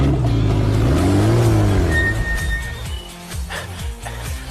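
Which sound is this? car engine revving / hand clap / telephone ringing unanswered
car engine revving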